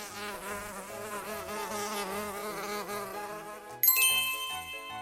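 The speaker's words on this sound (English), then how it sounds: "M is for mosquito, buzzing near." A mosquito buzzing near, a steady high-pitched whine over a soft musical backing, followed by a bright chime near the end.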